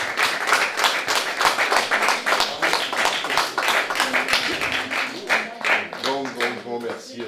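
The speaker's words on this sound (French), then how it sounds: "applaudissez-la très très très fort" An audience at a lecture on Castoriadis applauds speaker Annick with rhythmic, distinct claps close by, under overlapping talk and voices that grow stronger toward the end.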